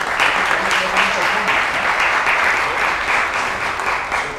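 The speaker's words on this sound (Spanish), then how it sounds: "Un aplauso." Applause from an audience at an indoor gathering, loud and continuous, a dense wash of clapping throughout with no break.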